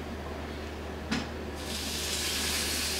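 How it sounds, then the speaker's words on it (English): Steam hissing from a pan of pancit canton noodles, a soft steady hiss that swells louder partway through and continues as a broad rushing wash. "carefully, don't burn yourself on the steam"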